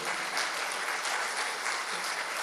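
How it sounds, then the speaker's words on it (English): A live audience applauds steadily for a dignitary after a presentation at a formal event, a dense, even wash of clapping throughout with no pauses. "A round of applause, ladies and gentlemen, for His Excellency."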